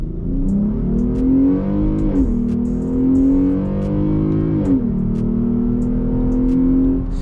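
A Jeep Grand Cherokee in sport mode accelerates hard from a standstill to 60, the engine loud and close as it climbs through the revs, drops briefly at two gear changes, then pulls up again.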